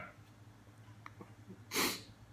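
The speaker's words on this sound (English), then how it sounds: "Sorry, I feel a sneeze coming on." A single loud sneeze bursts out near the end, after a few seconds of quiet breathing and faint sniffing.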